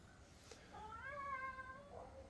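A cat meows once near a smelly litter box area, a drawn-out, fairly close cry lasting about a second over quiet room noise, with no talking.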